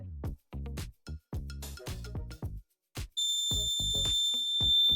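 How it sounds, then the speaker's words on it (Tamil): A high, steady electronic alarm tone from a wireless water tank overflow alarm starts partway through and sounds continuously to the end, after a series of short clattering knocks. "ஸோ நம்மளுக்கு பீப் சவுண்ட் வருதா"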